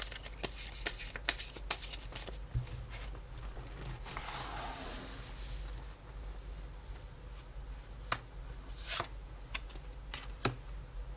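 Tarot cards are shuffled and riffled by hand before an extra card is drawn: a burst of rapid papery flutters, then softer sliding, and a few sharp card snaps and taps near the end, close and without speech.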